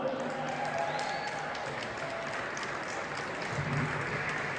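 Applause from an audience at the St Paul Winter Carnival, a dense, continuous wash of clapping and crowd noise at moderate distance with voices mixed in.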